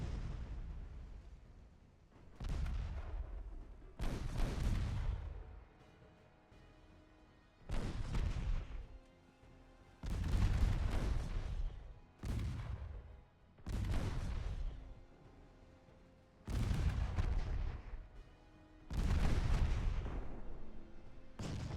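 Heavy naval 10-inch guns boom in a warship battle game, about eight loud separate blasts spaced a couple of seconds apart, each with a long rumbling decay and no talk.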